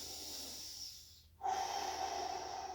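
Deep breathing during a self-care exercise movement: a long, steady exhale, a brief pause, then a strong, airy inhale drawn close to the microphone, with no talking.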